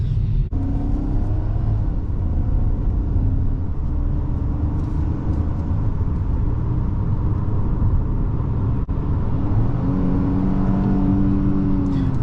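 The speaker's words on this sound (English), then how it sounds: "There's instant pickup from this powertrain, and we are easily overtaking the traffic without a single hesitation." A 2022 Ford Escape S heard from inside the cabin as it accelerates and overtakes traffic, a steady engine drone and road rumble with the revs rising late, no voices.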